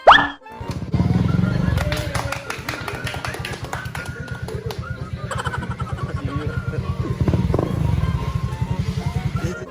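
A motorcycle engine runs after an ECU swap, starting with a sharp burst and then settling into a fast, even idle pulse that carries on near and loud, with a few brief knocks and faint voices.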